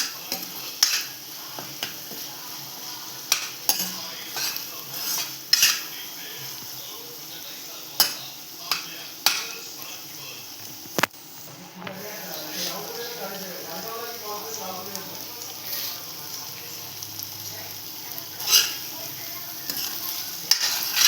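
Sev bhaji masala cooking in oil, with onion masala among the spices, gives a steady close sizzle as a spoon stirs and taps against the pan, producing repeated sharp clinks over about twenty seconds, with faint talk partway through.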